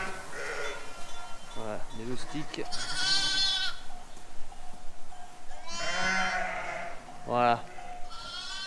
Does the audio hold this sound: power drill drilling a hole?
no